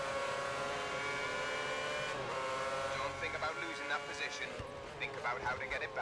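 A Formula One car's engine in the F1 2010 racing game at the Catalunya circuit whines in a high, sustained pitch, with gear shifts and revving fluctuations, under steady commentary talk.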